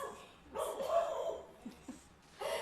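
Dogs bark and yip indoors in a few sharp, fairly close bursts, with a brief whimpering note between them and quiet gaps.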